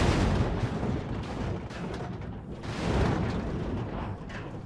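Tank cannon fire and battle rumble in the game Armored Warfare, with heavy booming blasts and dense low-end roar that surge and fade in waves, loud and close, without speech.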